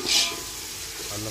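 Ginger garlic paste with a little turmeric sizzling in hot oil alongside onions for a rohu fish curry, a soft steady frying hiss with a brief brighter burst near the start.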